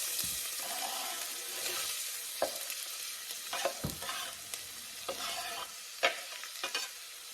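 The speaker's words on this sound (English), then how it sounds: "So we're going to brown the onion" Onion, garlic and ginger cook in olive oil in a pot, giving a soft steady sizzle with occasional scraping stirs and clinks across the whole stretch, fairly quiet and close, with no voices.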